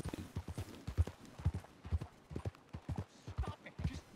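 Horse hooves clip-clop steadily at a walking pace in Red Dead Redemption 2, a run of regular, fairly close thuds continuing alone without talk.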